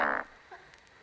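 A short, loud mouth-made fart noise, a voice imitating the sound, blurts out briefly and then fades into quiet room tone.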